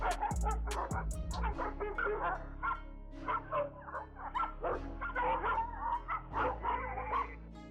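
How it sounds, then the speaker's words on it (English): Two large dogs bark, yip and whimper in a frantic, overlapping string of cries as a fox charges at them, the noise moderately close and sustained throughout. "it charges two large dogs, sending them into a full-blown panic"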